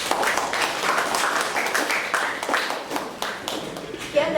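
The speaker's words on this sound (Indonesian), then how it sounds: "sudah bagus, tepuk tangan." A classroom of students clapping hands after a group presentation, a lively burst of many individual claps with distinct sharp hits, fairly close and slightly uneven, tapering toward the end.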